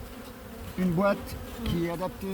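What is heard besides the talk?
honeybees buzzing during a winter beehive inspection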